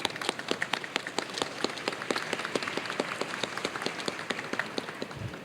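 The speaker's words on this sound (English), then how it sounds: "let's give him a warm round of applause as well" A conference audience at a sustainable development side event claps in a dense, steady patter of many hands, fairly distant and moderate in level, with no talking over it.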